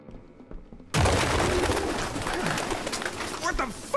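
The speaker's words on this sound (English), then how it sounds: "Birds." Pigeons coo inside an abandoned building in the video game Detroit: Become Human, a loud ambient wash that starts abruptly and continues steadily, with soft cooing calls near the end.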